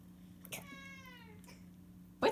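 A cat gives one clear, drawn-out meow with a falling pitch, fairly close and alone over a low steady hum, with a short scuffle before it and a louder bump at the end.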